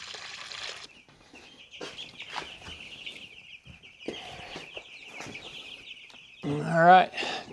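Chicks in a brooder peep in a steady, high, continuous chorus, broken by a few louder calls near the end, with nearby voices and movement.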